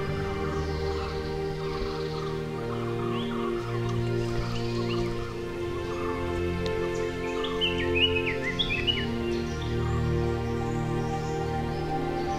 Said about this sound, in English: Birds are active in search of a breakfast.